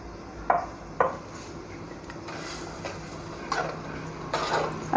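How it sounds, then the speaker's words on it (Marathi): Red masoor lentils tumble into a cooking pot with a few distinct clinks and scrapes of a spoon against metal, followed by softer stirring, close and moderately loud with no talking. "आता यामध्ये आपण मसुरा घालतो आहे."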